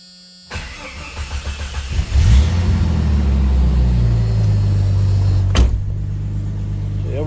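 A car engine on a restored LeMans is cold-started after a short quiet moment: the starter cranks with a rising rhythmic churn, the engine catches and revs up, then settles into a loud, steady idle nearby.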